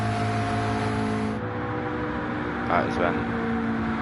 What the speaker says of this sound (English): I just heard another car leaving pit lane, I think.